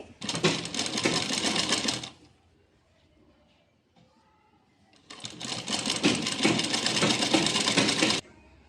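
A sewing machine runs in two loud bursts of fast, steady stitching along a folded fabric strip for a child's Pathani suit, separated by a few seconds of quiet handling.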